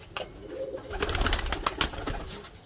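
Pigeons cooing close by in a loft, soft low throaty coos repeating over light rustling and flutter.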